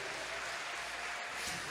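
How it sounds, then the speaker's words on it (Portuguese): A church congregation claps in praise during a Portuguese-language worship service, a steady, moderately faint wash of applause that runs through the whole moment with no speech over it. "Levanta sua mão para o alto, aplauda o Senhor."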